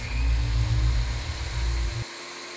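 A table saw set up to cut plexiglass runs with a loud, steady low motor hum that cuts off abruptly near the end, leaving only faint background noise.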